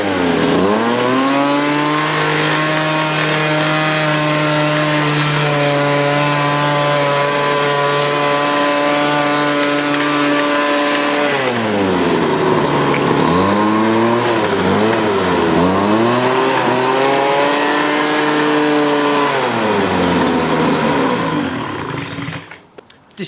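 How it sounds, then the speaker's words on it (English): Small two-stroke leaf blower running on full choke, a loud steady buzzing engine note held at high revs, dipping and rising a few times before cutting off near the end. "I'm pretty happy with this leaf blower."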